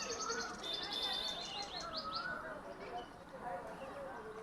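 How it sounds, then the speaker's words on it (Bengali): Birds chirp and call from a distance in a flowering palash grove, quick high twittering phrases over a steady outdoor background. "পাখি ডাকছে দূর থেকে,"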